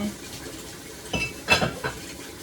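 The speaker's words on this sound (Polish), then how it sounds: "ja tutaj dokonuję mojej ulubionej czynności, czyli mycia naczyń" Dishes clink and clatter in a few scattered bursts while being washed, with light scraping of cutlery against a quiet background hum.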